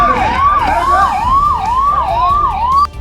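Fire engines arrive at a factory fire with a loud, close wailing siren that rises and falls in a fast repeating cycle, cutting off abruptly near the end.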